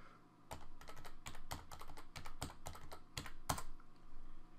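Rapid, uneven keystrokes clatter on a computer keyboard while an IP address is entered to configure a router, close and steady with no talking.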